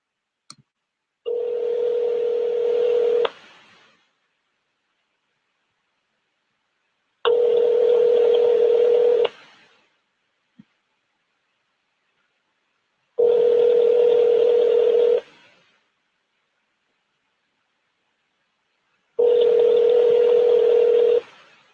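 A phone call placed on speakerphone gives four long ringback tones, each about two seconds, spaced evenly with silent gaps between. The tones are loud, clear and steady, and a faint click comes in one gap.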